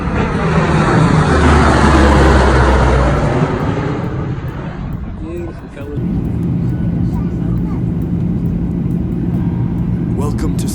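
Loud, steady roar of a 737 airliner's jet engines at close range, a broad sustained rumble that dips briefly before resuming, with talk over it.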